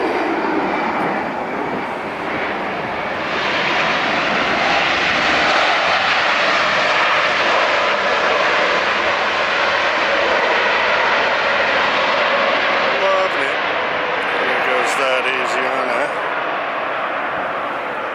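An SAS airliner touches down at LAX, its engines roaring loud and steady in a broad rushing wash that holds for the whole stretch, close and continuous.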